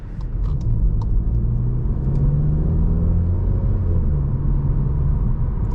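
A 2024 VW Jetta GLI 40th Anniversary heard from inside while driving on the road, a steady loud engine drone and road rumble with mild pitch shifts, continuous and close, no talk.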